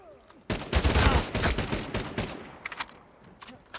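The Copperhead gun fires in Uncharted 4 multiplayer: a dense, loud burst of rapid shots for about two seconds, then a few scattered, quieter shots trailing off.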